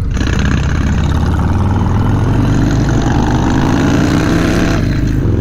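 A Harley-Davidson Low Rider S motorcycle engine rumbles loud and close, a deep steady idle that swells into throaty revving throughout with no talk.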